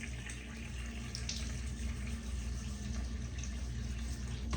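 Water running steadily from a tap into a sink to wet a beard, a continuous, fairly faint hiss and splash that stays even throughout, with no voices.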